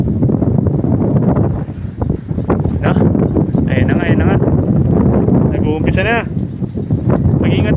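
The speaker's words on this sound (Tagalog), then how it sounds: "sobrang lakas ng hangin" Strong wind buffets and roars against the microphone continuously during an approaching storm, with brief higher whistles and faint voices underneath.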